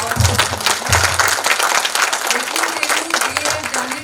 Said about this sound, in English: I would just like to request everyone to give a big hand of applause